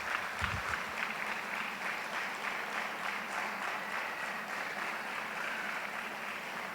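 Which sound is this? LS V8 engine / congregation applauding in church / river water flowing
congregation applauding in church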